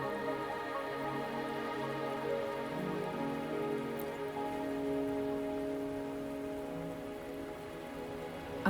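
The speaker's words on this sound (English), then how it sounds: "Are you trapped here by the rain?" Rain falling in the video game Wuthering Waves, a steady, even hiss of rainfall with soft sustained tones underneath, continuous throughout with no talk.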